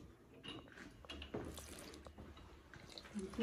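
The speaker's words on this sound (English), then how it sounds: "I put some cold water." Cold water is poured onto ground maize meal while making sadza, a soft, uneven trickle and splash with small clinks, fairly quiet and close.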